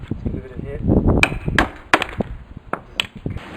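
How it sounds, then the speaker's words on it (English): A hammer strikes a partly cut concrete paver, giving several sharp, close knocks spaced irregularly over a few seconds, with some talking and handling noise around them. "just get a hammer and just hit it and it'll just come off"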